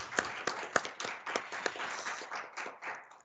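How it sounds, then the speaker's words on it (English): A small group claps in a brief round of applause at a trade meeting, with sparse, uneven hand claps close by, fading toward the end. "A big round of applause."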